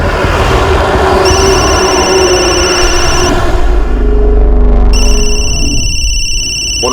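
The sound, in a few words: telephone ringing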